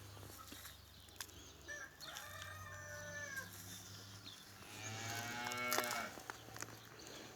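A cow moos twice in long, low calls at a distance in a village while chickens cluck and a rooster crows faintly in the background.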